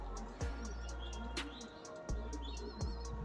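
High-flying pigeons chirp and coo nearby in short, irregular calls, with sharp thumps and rustles from handling between them.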